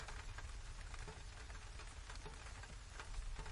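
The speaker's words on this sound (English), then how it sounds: "The rain has become a lullaby composed by the universe specifically for your ears" Steady, dense rain falling on surfaces, a continuous even hiss of drops at moderate level with no voices over it.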